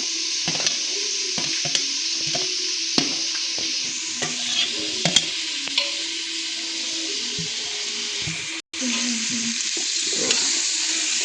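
Carrots, cucumber and beans fry over a low gas flame for pulao as a utensil stirs the pan, giving steady sizzling broken by repeated scraping strokes, with a brief sharp drop out near the end.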